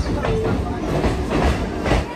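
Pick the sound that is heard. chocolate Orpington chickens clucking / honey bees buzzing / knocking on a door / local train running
local train running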